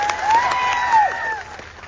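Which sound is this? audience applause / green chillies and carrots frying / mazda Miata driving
audience applause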